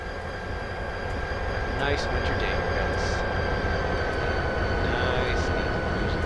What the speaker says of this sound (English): We have an Amtrak Adirondack train here, cruising through upstate Maine.